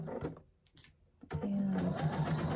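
A sewing machine stitches a quilt seam, its steady motor whir rising after a short quiet pause and running loud and continuous to the end.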